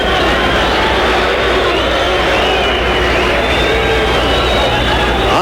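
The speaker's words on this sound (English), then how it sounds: "the crowd saying, come on, fight" A dense, continuous roar of a 1970s boxing crowd in Zurich shouting and cheering at an Ali fight, loud and unbroken, with babble blended through it.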